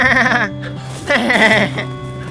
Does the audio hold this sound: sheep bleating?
yes